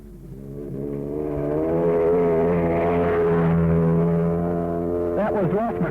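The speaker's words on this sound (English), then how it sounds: "That was Ross McLaren on a 250 Jawa Supersport" A 250 Jawa Supersport motorcycle climbs the Huntly hillclimb in 1965 New Zealand, its engine droning loudly and holding a buzzing, shifting pitch as it builds and sustains near by.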